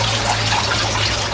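Water siphoning out of an aquaponic grow bed and emptying into a reservoir in a greenhouse, a steady close trickle and gurgle with a low hum beneath.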